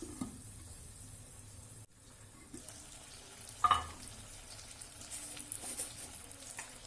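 Radish sizzles gently in a pan, a soft continuous frying hiss with a brief stir or clink midway, fairly quiet and without talking.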